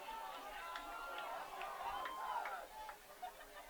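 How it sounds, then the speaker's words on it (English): A homecoming high school football crowd murmurs and stirs as students rise to their feet. A soft, distant babble of voices and scattered shouts rolls on, with a commentator's voice sounding over it. "the crowd is waking up here, it looks like"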